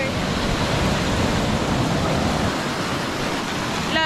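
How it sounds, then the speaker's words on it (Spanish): Ocean waves at Tupa beach in Choroni, Venezuela, heard as an even, continuous hiss of surf washing in, moderately loud and unbroken with no voices. "Miren este mar, las olas que se hacen."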